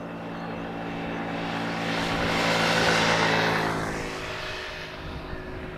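A fixed-wing airliner passes over or near runway 18R at Amsterdam Schiphol Airport in the morning, a broad engine roar that swells to a peak midway and then slowly fades, with no talk.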